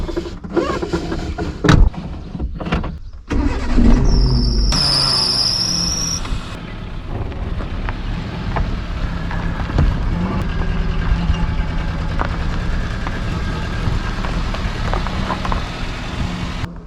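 A car just back from the garage and hot from sitting in the sun starts up. After a few clicks and thumps, the engine settles into a steady, continuous running drone that lasts through to the end, with no talking.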